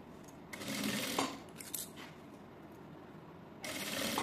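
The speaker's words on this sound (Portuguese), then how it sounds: "Agora eu passo uma costura aqui de segurança." Sewing machine running a short securing seam across a zippered fabric wallet, a steady mechanical whir in bursts of a few seconds with brief pauses between, close and moderately loud.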